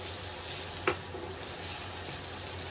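Onions sautéing in a pan, a soft, even sizzle heard close and fairly quiet, with a single light utensil tap about a second in.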